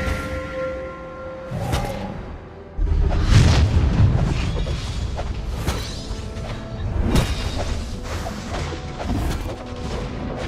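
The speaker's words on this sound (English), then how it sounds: "Your team destroyed a turret!" A turret is destroyed in the Mobile Legends mobile game, giving a deep booming explosion with crashing debris and swooshes, followed by scattered impacts and effects over busy game sounds, with no talk.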